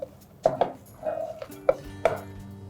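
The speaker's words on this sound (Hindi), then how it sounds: "तो ये जो घी है ये भी गया इसके अंदर, और स्टर आप केयरफुली करना इस तरीके से" A spoon stirs rice pulao with ghee, garam masala and spices in a cooking pot, making several distinct scraping clinks against the metal in an irregular rhythm, close up and with no speech.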